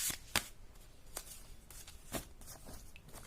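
Tarot cards are handled and shuffled during a reading, with soft, quick papery swishes and brief flicks at a low level and no talking.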